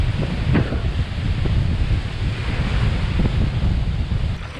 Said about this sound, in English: Man, I love wind.